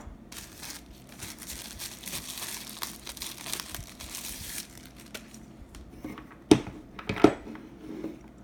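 Packaging from Wyze LED light bulbs is peeled and crumpled close by, a soft continuous crinkle and rustle with two sharper knocks near the end.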